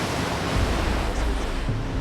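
Strong ocean waves surge and break against a jagged, rocky stretch of dangerous coastline, a loud, steady roar of churning surf that fills the clip without pause.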